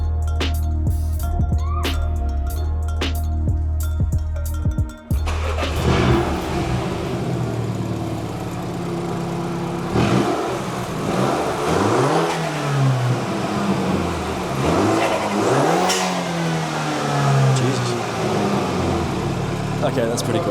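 A Mini Cooper engine fitted with a carbon fibre intake idles and then revs repeatedly in loud, rising and falling bursts with intake roar, heard close up while people talk over the noise.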